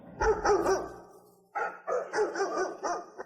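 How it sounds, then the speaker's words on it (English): Dog bark sample triggered from a keyboard and pitched in G, giving a quick run of several sharp barks, a short pause, then another burst of repeated yaps, loud and close with no talking. "I put him on a chip. I got Benny the dog now in G."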